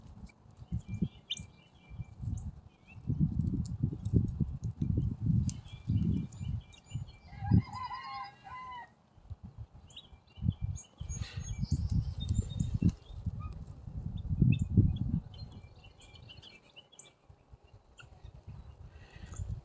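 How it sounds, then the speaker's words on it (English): Guinea fowl call close by on a farm, with harsh, repeated squawking cackles that rise and fall in bursts. Higher chirps sound now and then over a low rumbling background. "you guys not seen a nice up close look of some guineas"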